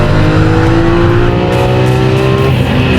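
A Lamborghini Aventador's 700-horsepower V12 engine roars loudly and continuously on a race track, holding a dense, high-revving drone with a slight pitch shift as it accelerates.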